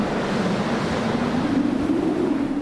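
Strong wind gusting across a remote, loose and crumbly rocky coastline, a continuous loud rushing roar with buffeting on the microphone, swelling slightly toward the end, with no speech.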